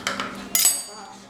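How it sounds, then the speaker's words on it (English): A few bright metallic clinks and taps of a whisk against a bowl, close by, in two short bursts with no talking. "So I'm just going to use a whisk instead of a blender because that's what I have."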